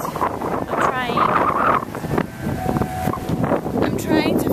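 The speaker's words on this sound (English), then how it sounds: "you probably can't hear me because it's super massively windy right now" Strong wind roars and buffets against the microphone on a beach in Punta Cana, Dominican Republic, loud and gusty throughout, while a person talks underneath it.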